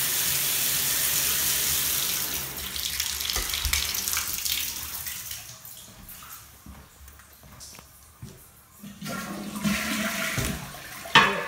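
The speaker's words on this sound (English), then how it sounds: "Flush is fine." An apartment bathroom toilet flushes with a loud rushing swirl that gradually subsides into trickling and gurgling as the tank refills, with no talking.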